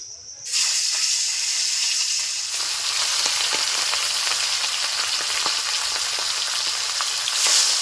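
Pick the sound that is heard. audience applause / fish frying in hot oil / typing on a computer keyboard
fish frying in hot oil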